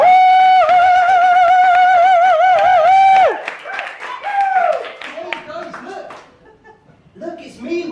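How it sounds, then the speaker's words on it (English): A stand-up comedy crowd greets the comedian with a long, sustained whooping cheer, then breaks into scattered clapping and chuckles that thin out toward silence before rising briefly again at the end. "the cheers and applause that he deserves"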